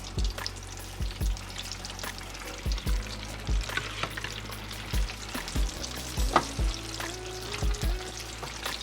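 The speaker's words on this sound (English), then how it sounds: "We're gonna fry that up, get it nice and golden brown." Chicken wings deep-frying in a fryer of hot oil, a steady close sizzle and bubbling, broken by scattered clicks and knocks.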